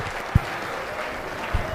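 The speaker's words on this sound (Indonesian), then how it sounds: "tepuk tangan dulu" Audience applause in a lecture hall at a Quran-memorization event, a steady wash of clapping with two sharp nearby thumps breaking through.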